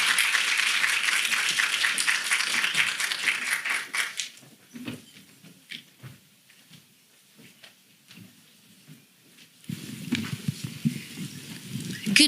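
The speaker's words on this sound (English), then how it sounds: "Let's give them a round of applause." A conference audience applauds the panelists coming up for a session on combating human trafficking. Dense clapping fills the first few seconds, then fades to near quiet, and a later burst of rustling noise rises near the end.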